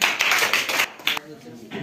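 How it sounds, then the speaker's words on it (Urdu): A small audience at a school Iqbal Day program claps for Tahir, a short burst of scattered hand claps that thins out quickly, with voices speaking alongside. "طاہر کے لیے بھرپور تالیاں"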